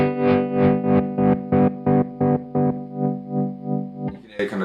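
Electric guitar notes played through a Seymour Duncan Shapeshifter stereo tremolo pedal, the sustained tone chopped into about ten even, rhythmic pulses that shift from smooth swells to sharp square cuts, close and clear, ending in a brief scrape.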